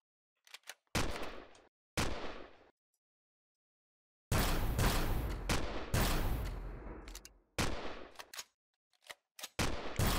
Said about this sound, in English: Stop shooting my ride.